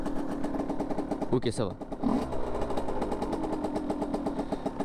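A 50cc motorcycle is kick-started and fires up on the first kick, settling into a fast, rattling two-stroke idle with a brief rev. Someone speaks briefly over the running engine.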